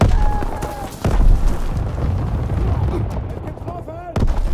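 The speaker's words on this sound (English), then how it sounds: "It's a missile, watch out." Heavy booms and rumbling blasts from a missile strike in the Call of Duty WWII game, with dense explosive noise, a sharp hit near the one-second mark and another near the end, amid background battle sounds.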